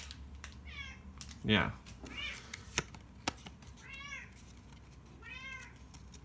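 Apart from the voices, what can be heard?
cat meowing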